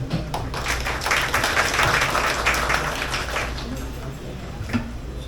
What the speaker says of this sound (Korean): 이용준 회장님을 큰 박수로 모시겠습니다.